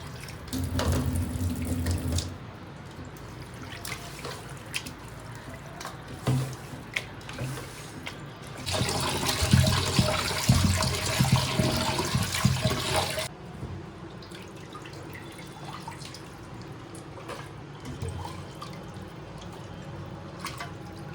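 Running tap water splashes into a sink as chicken is washed, with an initial stretch of flow, a louder, fuller gush in the middle and a quieter trickle with occasional drips toward the end.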